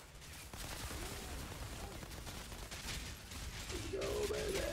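Continuous gunfire from the Outriders video game, a dense crackling fusillade running steadily through the whole stretch with a few ratcheting mechanical clicks and some faint tonal game effects near the end.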